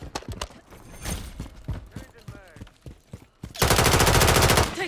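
Call of Duty gunfire: scattered single shots and bursts under voices, then a sustained loud machine-gun burst rattling fast and close to the end.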